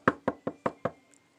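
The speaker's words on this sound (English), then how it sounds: "Then there was a knock on the door." Five evenly spaced knocks sound on a door, sharp and close, with nothing else heard around them.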